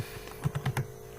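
A short burst of clicks on a computer keyboard while Java code is typed, about half a dozen quick close taps in an even rhythm, no voices.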